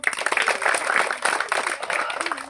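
A small outdoor crowd claps loudly and unevenly for a winner at a ball-shooting challenge, a close burst of applause mixed with murmuring voices.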